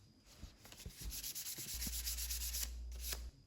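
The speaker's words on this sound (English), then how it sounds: "I'm using 320 grit here, and I sand it just enough to rough up the surface so that the next coat will stick easier." Hand sanding a wood finish on red oak with 320 grit sandpaper gives faint, close scratchy rubbing strokes in a repeated back-and-forth rhythm, alone with no talk.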